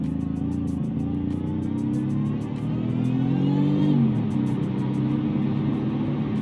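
A supercharged stock-style car engine in the Automation game revs steadily and fairly loud, with its pitch climbing smoothly toward the four-second mark and then dropping back, over a continuous whirring drone.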